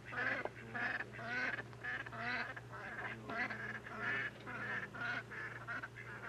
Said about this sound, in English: We got ducks.